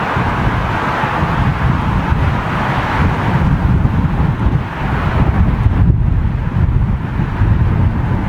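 Strong gusty wind during a storm at London Heathrow Airport buffets the microphone with a loud, continuous rumbling roar that swells and dips slightly, with no voices heard.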